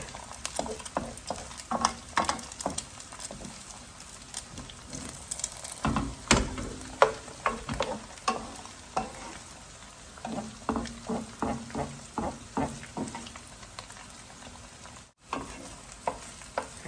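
Eggs frying in a pan for riceberry chicken fried rice, a soft background sizzle broken by repeated scraping stirs and spatula clicks at an uneven rhythm, close and quiet with no voices.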